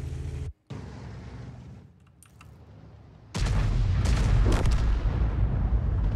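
An artillery shell lands from the Conqueror gun carriage in a tank battle game, a deep booming impact that surges in loud and holds as a heavy rumble after a quieter stretch of ambient noise.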